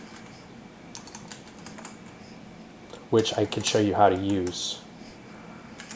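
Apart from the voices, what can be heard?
computer keyboard typing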